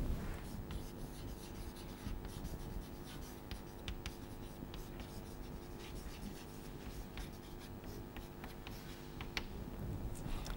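Chalk or a marker writes on a board during a lecture, a faint continuous scratching with small ticks and taps as strokes are made, heard alone over low room noise.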